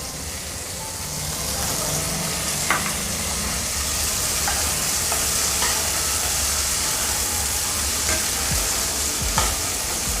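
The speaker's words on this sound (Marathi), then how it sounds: "आणि आता आपण हा छानपैकी असा परतून घ्यायचा आहे" Green peas are sautéed and stirred in a pan for a pea chaat dish, giving a steady, close sizzle with occasional scraping clicks from the stirring utensil.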